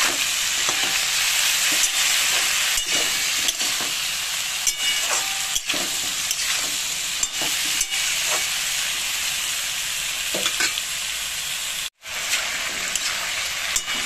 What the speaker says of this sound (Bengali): আলুটাকে একটু ভেজে নিতে হবে।